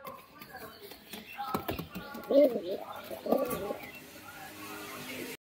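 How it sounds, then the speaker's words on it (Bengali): A male Nafta pigeon, a Benarasi Giribaz type, stirs and flutters restlessly in its cage with a few soft coos and scuffles, while people talk nearby. "বন্ধুরা, একটা নাপ্তা ভাঙানো নর পায়রা, সিঙ্গেল নর, ঠিক আছে। পায়রাটা প্রচন্ড ছোটাছুটি করছে বাইরে বেরোনোর জন্য।"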